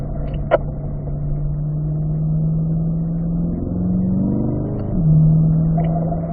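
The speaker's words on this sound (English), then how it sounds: "we can still drag the brakes into the corner" A car on a race track braking into a corner: a steady, loud engine drone from inside the car shifts and drops in pitch as it slows, with a brief click near the start.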